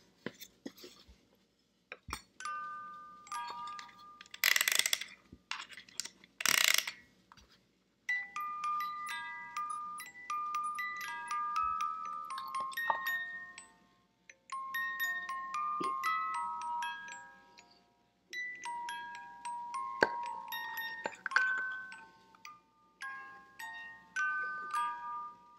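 A Toyo wind-up music box plays a tinkling tune of bright plucked notes in short phrases with brief pauses, heard alone after a couple of sharp clicks near the start.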